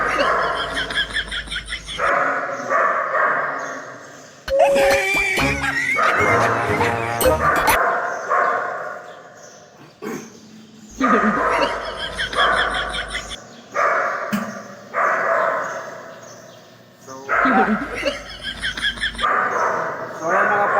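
A dog barks and yips in short bursts, fairly close, with people talking over and between the barks.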